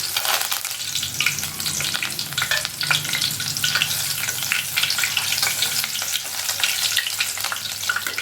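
Green chillies and curry leaves fry in hot oil for a cauliflower 65 recipe, giving a loud, steady sizzle with crackling pops throughout and occasional stirring. No one speaks.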